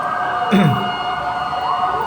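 A fire truck siren responding in Barangay Tatalon near QI Central on a narrow road, heard as a faint steady tone with one brief rising-falling wail, with no talking.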